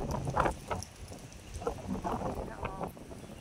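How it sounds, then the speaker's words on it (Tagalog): Strong morning wind blowing outdoors under a dark, overcast sky, a steady broadband rush with gusty swells and buffeting against the microphone, joined by scattered nearby knocks and rustles. "malakas na yung hangin."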